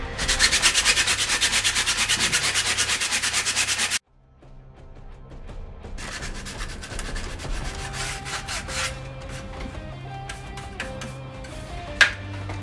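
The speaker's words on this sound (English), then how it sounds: "I've got to spend time sanding this" Rapid, rhythmic sanding strokes rasp loudly across a hard 3D-printed plastic sword blade for a few seconds, then give way to quieter, lighter rubbing.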